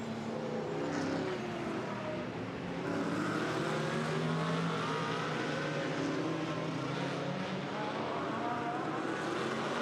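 Race car in a 2012 Blanchpain Endurance Series race at Monza, entering the second chicane; steady, loud engine roar blending with other car noise throughout, no speech.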